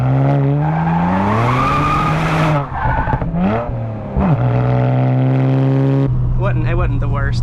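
Rear-drive car drifting as its rear tires spin under power, the engine revving loudly with sweeping rises and falls in pitch, tire squeal mixed in, a brief lift-off dip midway, then a sustained high wail.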